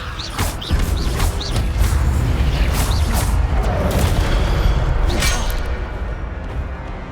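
Fire spell blasts in Hogwarts Legacy, a run of loud booming bursts with crackling hits and whooshes stacked densely over about seven seconds of continuous combat noise.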